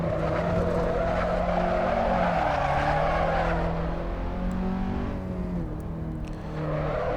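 A race car's engine drones steadily as its tyres squeal and skid through a run of corners in Assetto Corsa, loud and continuous, the pitch sliding up and down with throttle changes.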